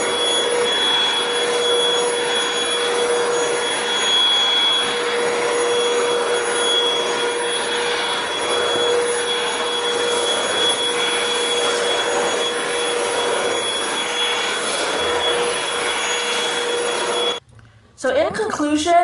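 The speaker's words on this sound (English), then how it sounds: "this is a very nice, portable and cordless vacuum" A Hoover Cruise cordless 22V stick vacuum cleaner runs at a steady, loud whine with a hissing airflow, then cuts out briefly near the end before starting again.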